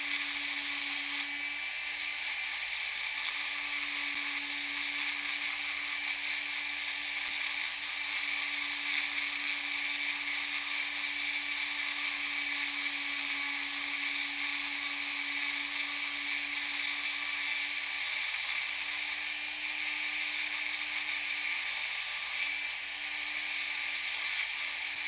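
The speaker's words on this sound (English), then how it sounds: "And then I'll hit it with that finer grit, start the polishing." A rotary polishing tool with a finer grit works a stone piece, giving a steady high-pitched whir with a constant hum beneath, unbroken for the whole stretch.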